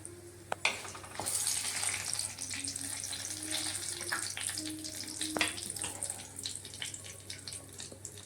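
Whole garam masala spices, cinnamon and cloves, frying in a pan for paneer masala, giving a continuous soft sizzle with light scraping and clinks of stirring, close and steady throughout without talk.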